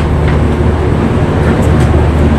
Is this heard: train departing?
yes